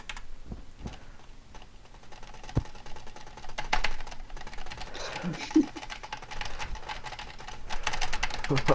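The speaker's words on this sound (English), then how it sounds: "What are you doing? Spam my keyboard." Rapid keyboard spamming on a computer during a Terraria gaming session, with dense clattering bursts of keystrokes scattered through the clip, fairly close, under and between talking voices.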